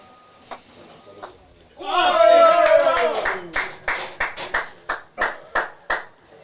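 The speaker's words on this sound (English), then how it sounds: "Now that big cheer, unfortunately, was Mark Stevens playing something fantastic." At a golf croquet World Teams Championship semi-final between Australia and Egypt, a crowd erupts in a loud cheer that gives way to a long run of rhythmic clapping, strong and nearby, after a few faint earlier taps.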